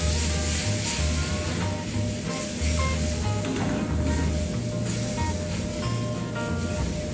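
Garlic frying in fat in a pan gives a steady close sizzle and hiss that runs through the whole stretch at an even level, while a low hum and faint clinks sit underneath.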